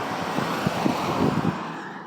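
Steady broadband road traffic noise, a continuous wash of passing cars and heavier vehicles at moderate distance with small swells as individual vehicles go by, no voices.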